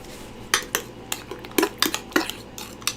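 A utensil mixes grated Parmesan cheese into mayonnaise in a bowl, with sharp scraping clinks against the dish that come in an irregular run of close, distinct strokes.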